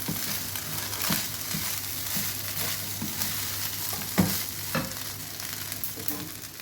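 Vegetable fried rice sizzles steadily in a hot pan while being stirred, with repeated scraping strokes breaking through the continuous frying hiss at close range.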